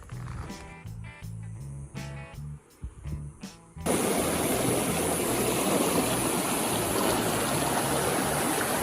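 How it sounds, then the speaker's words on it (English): River at the bottom of the Grand Canyon near Phantom Ranch, a loud, steady rushing flow filling the scene after a few seconds of clattering and knocking sounds up close. "Chilling in the Grand Canyon, feet in the nice cold river."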